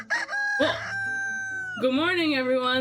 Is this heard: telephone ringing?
no